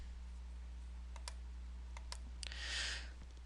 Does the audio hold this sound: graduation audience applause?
no